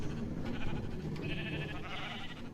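A sheep bleats in a Minecraft farm, a nasal game sound over a steady low background, moderately loud and without speech.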